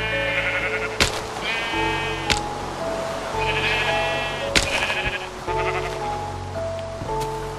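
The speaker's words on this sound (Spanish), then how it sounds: "Ahí se escapó la oveja." Sheep in the video game Minecraft bleat repeatedly, several clear overlapping calls over steady background game sound, with a few sharp clicks between them and no talking.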